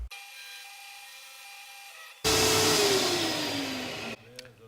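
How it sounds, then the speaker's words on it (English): A disc sander idles with a steady hum, then bites into a small model piece with a loud rasping grind for about two seconds before lifting off. A brief clatter follows. "And for that I use a disc sander."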